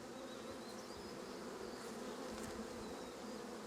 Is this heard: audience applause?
no